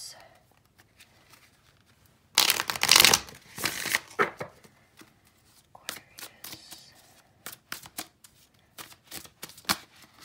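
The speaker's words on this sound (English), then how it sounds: "got a lot of cards flying out here" Tarot cards are shuffled by hand during a reading, a loud riffling burst followed by a run of sharp, close card flicks and snaps, with quiet talk in between.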